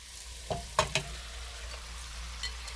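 Marinated tripe for Jamaican tripe with butter beans drops into hot oil: a few quick splashy bursts, then a soft, steady sizzle close by.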